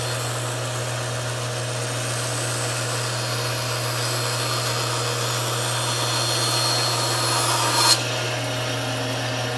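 A disc sander cleans up bevel angles on a wooden workpiece, producing a continuous steady motor hum with broad abrasive grinding. It runs close and alone, with a brief louder scrape near the end.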